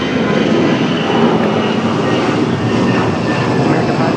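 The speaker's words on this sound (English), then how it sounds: "Should be a good sounding departure for our American A319." An American Airlines Airbus A319 jet departing from Raleigh-Durham International Airport gives a loud, continuous engine roar that holds steady and close throughout.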